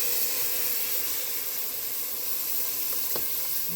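Beef stock poured into a hot seafood gumbo base, giving a steady, close hiss of sizzling and bubbling liquid with no voices over it.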